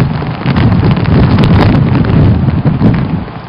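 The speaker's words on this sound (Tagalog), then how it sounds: "Inubanan sa kusog nga hangin." Strong wind from Super Typhoon Haiyan in northern Cebu roars loud and gusty, buffeting the microphone with heavy low rumble, rain mixed in, and no speech.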